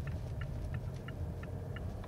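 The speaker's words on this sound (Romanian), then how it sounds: "Și acum trecem peste niște linii de tramvai" Inside a 2017 Mazda CX-5 with the 175 hp 2.2 diesel and six-speed automatic, the tyres roll over tram tracks on a city street. A steady low road rumble carries a series of evenly spaced light thumps.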